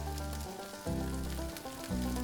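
Leftover brisket sizzles and crackles in a hot pan, a soft, continuous frying hiss close by with low hum in the background.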